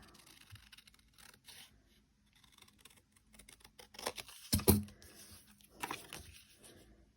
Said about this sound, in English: so again I'm just going to take my scissors